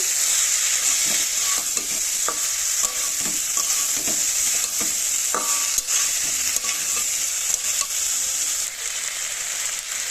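Boiled figs and green chili stir-fried in a pan for a vegetarian fig dish give a steady, close sizzle with repeated scraping and clinking from the spatula throughout, and no voices.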